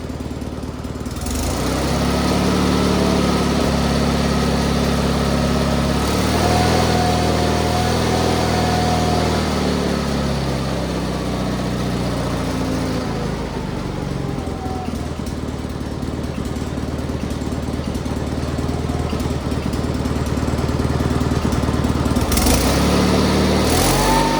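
A small tractor engine idles steadily once warm, a loud continuous low rumble with a faint wavering whine, running alone for the whole stretch with only slight shifts in pitch.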